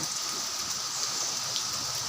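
Steady rain falls, a continuous even hiss of drops on surfaces with no voices.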